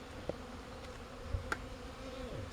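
Honey bees buzz faintly in a steady low drone while a nucleus colony is installed into its hive, with a few soft knocks and clicks breaking through.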